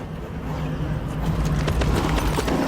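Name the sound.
horse hooves and neigh in The Witcher 3 video game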